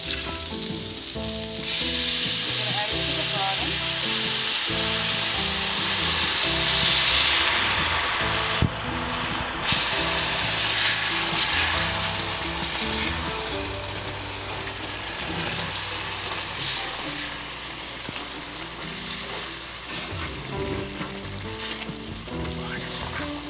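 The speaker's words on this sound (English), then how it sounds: "now I'm going to add the Marsala cooking wine" Marsala cooking wine is poured into a hot pan of chicken and mushrooms, setting off a loud, steady sizzle with hissing bursts, which then settles into a softer continuous frying crackle, with no talking.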